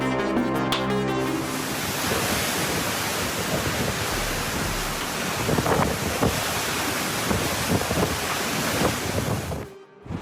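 Pounding ocean surf whipped by the strong winds of Typhoon Yagi in China, a loud continuous roar of waves and gusting wind buffeting the microphone, with heavier surges midway and a brief drop near the end.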